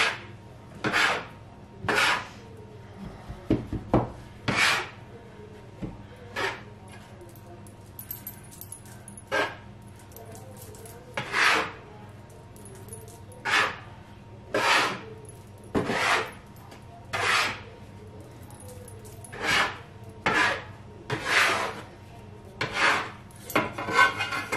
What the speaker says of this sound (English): You want to incorporate the eggs and the flour together.